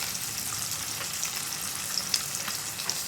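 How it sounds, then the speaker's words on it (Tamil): Fish pieces fry in hot oil, giving a continuous soft sizzle and bubbling with occasional faint pops, moderately quiet and close. "இந்த மாதிரி தான் மீன் பொரிப்பீங்களா"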